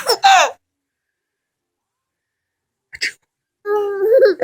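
A person sneezes twice in quick succession, loud and close, then after a long silence gives a brief sharp breath and a drawn-out voiced sneeze-like cry.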